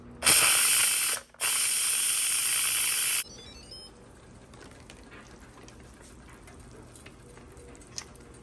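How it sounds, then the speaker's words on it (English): An Instant Pot pressure cooker vents steam in a loud, close, sharp hiss that breaks off briefly and resumes for about two more seconds, then cuts out, leaving faint kitchen rustling. "I'm going to go ahead and just release the steam now"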